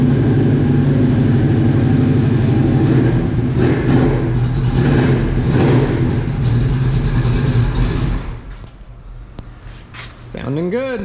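A 1970 vehicle with a 454 engine runs loud and close near an old barn, rumbling and revving in rising surges for several seconds before cutting back, with voices briefly heard at the end.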